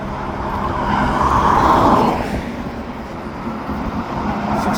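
A six-car commuter train rolls past in a rail yard, its rushing roar swelling near the middle and then easing into a steady rumble, with no voices.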